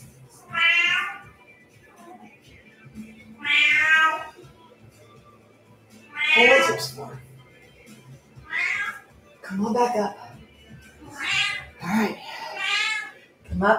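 A cat meows repeatedly in drawn-out, wavering cries spaced a few seconds apart, close and fairly loud, in a quiet room during a stretching session.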